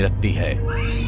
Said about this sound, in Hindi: तभी सेठ को अपने घर के बाहर से बिल्ली के रोने की आवाज सुनाई देने